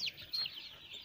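Five-day-old chicks cheep faintly, with a few short high chirps scattered over a quiet background.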